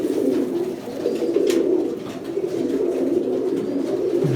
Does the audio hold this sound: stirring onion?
no